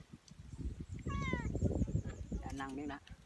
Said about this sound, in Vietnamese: Đây con mèo á, cho nó cái đuôi.